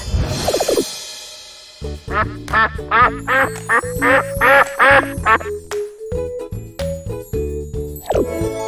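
A cartoon-style duck quacks repeatedly in a quick rhythmic series over a bright, playful musical backing, loud and close.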